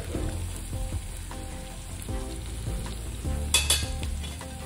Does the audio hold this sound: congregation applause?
no